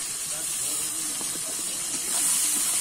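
Chopped tomato with cumin powder, coriander powder and ginger paste hits frying shrimp in a pan, giving a steady, close sizzling hiss that grows slightly louder toward the end.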